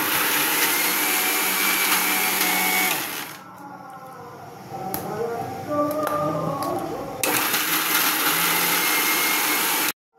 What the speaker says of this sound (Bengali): পাউরুটিগুলো আমি সব কেটে নিয়েছি, সাইডের অংশগুলো মোটা অংশগুলো এগুলো আমি ছিঁড়ে এগুলো মিক্সিতে দেবো।